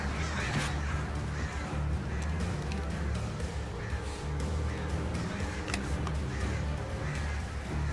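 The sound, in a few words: crows cawing in the video game Alan Wake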